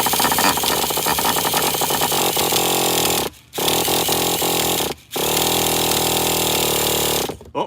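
A nitro model engine fires up and runs with a buzzy, high-revving whine, cutting out twice in short gaps before catching again and ending with a brief drop.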